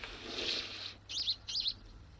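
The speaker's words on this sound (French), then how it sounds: "Hey, il y a deux moineaux." Two sparrows at a window, one holding a feather in its beak: a burst of flutter and noise followed by two sharp, close chirps.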